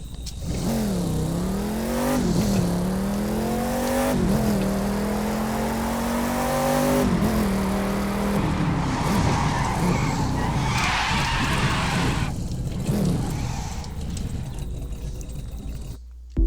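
Touring-spec race car in The Crew 2 accelerating hard with no wheel slip, engine pitch climbing then dropping at each quick upshift several times in rhythm, loud and close, ending in a skidding tire squeal.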